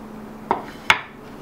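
Plate and dishes handled while turning out a microwave-baked walnut chocolate cake, two sharp clinks about half a second apart, close and fairly loud against a quiet kitchen background.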